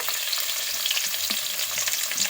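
Onions sizzle and fry in hot oil with garam masala and bay leaves for veg biryani. A steady, close crackle is broken by a few faint stirring scrapes.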